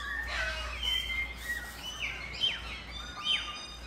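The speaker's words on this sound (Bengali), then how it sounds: "তোমরা কখনো অরিজিনাল এভাবে পাখির আওয়াজ শুনেছো" Several birds chirp and sing in a village morning, with bright overlapping calls and rising whistles repeating throughout over a quiet, steady background.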